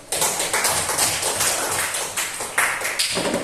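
Applause in a classroom, a steady dense patter of many hands clapping together at close range, swelling slightly near the end with no talk over it.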